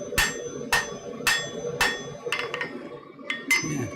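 Sharp metallic hammer strikes ring out in a smithy, forging metal against an anvil-like rest, about seven bright clinks in an uneven rhythm, close and loud over low background rumble.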